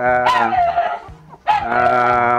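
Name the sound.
puppy dog barking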